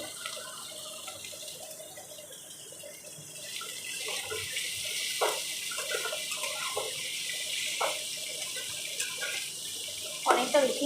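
Cut paneer pieces fry in oil alongside potatoes in a pan, giving off a steady, soft crackling sizzle with small pops, under a faint voice.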